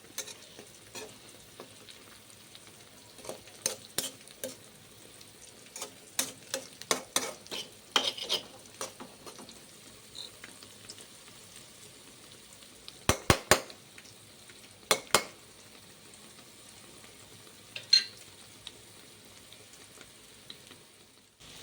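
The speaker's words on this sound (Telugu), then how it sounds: "ఆనియన్స్ బాగా ఫ్రై అయిన తర్వాత ఒక 3 ఎగ్స్ తీసుకొని పగలగొట్టి ఆనియన్స్లోకి వేయండి." Eggs frying in a pan on top of well-fried onions, a steady soft sizzle broken by repeated sharp clinks and scrapes of a utensil against the pan, with no talking.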